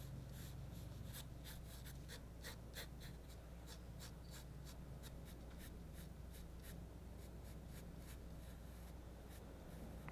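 A pencil draws a lotus petal on paper, faint close scratchy strokes in a steady rhythm of short repeated scrapes against a low hum, with no talking.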